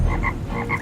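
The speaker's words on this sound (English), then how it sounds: "the frogs came up and covered the land of Egypt." Frogs croak repeatedly in a steady, fairly loud chorus of rhythmic calls, with no voices over them.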